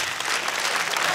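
Crowd applause at a stand-up comedy show, a loud, dense burst of clapping filling the whole moment without pause.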